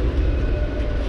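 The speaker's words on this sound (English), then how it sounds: "I need to get that tram going up there." A tram passes along a rainy city street at night, making a loud, continuous rumbling roar of wheels on rail close by, with no one talking.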